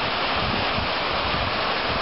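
Rushing waterfall at Hanging Lake in Colorado, a steady dense roar of falling water, close and loud throughout with no voices.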